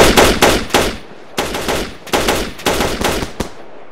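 Video game machine-gun fire rattles in loud close bursts of rapid shots, several separate volleys broken by short pauses.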